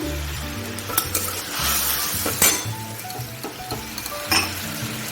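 Eggplant fries in a pan while a spoon stirs it, a loud close sizzle broken by scraping strokes and a few metallic clinks against the pan over several seconds, with no talking.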